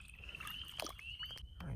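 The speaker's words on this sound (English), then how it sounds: "there's actually some leopard frogs calling behind me" Leopard frogs call faintly from a spring pool full of frog eggs, with thin, drawn-out croaks over quiet outdoor background.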